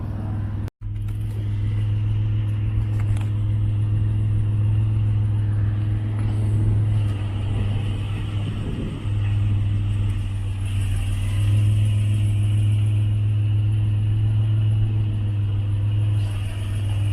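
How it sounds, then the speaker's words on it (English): A car drives along steadily, its engine a low constant hum with road rumble heard from inside the cabin, one sharp knock near the start, and no one speaking. "Let's jump in the car and let's go."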